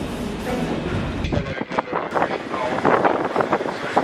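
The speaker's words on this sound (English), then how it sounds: "we've now successfully made it on our train back to Lagos." Rumbling, rattling noise fills the cabin of a moving train headed to Lagos, with steady wind-like roar and faint clatter, and a voice speaks under the noise.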